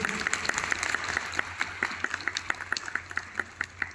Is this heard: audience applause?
yes